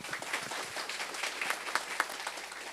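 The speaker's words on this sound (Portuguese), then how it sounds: "Um salve de palmas para todos vocês." Audience applause at an Abril Verde gathering comes through as a faint, continuous patter of many hands clapping at a distance.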